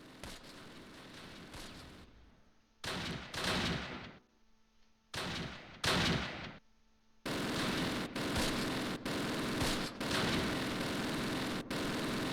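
Gunfire from the World War II strategy game Close Combat: Panthers in the Fog, in a battle for Hill 314 in August 1944. Sharp, heavy bursts of shots start and stop abruptly, then become steady, sustained firing with repeated loud cracks.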